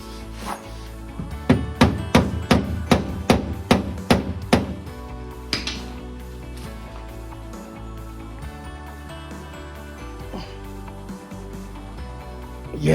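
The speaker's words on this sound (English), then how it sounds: "but I'm gonna hammer it in to fit." Roughly a dozen sharp metallic hammer blows drive an oversized bolt into a stripped hole on a 2011-2014 Hyundai Sonata hybrid window regulator, struck in a quick, even rhythm close by, then tapering off to quiet shop background.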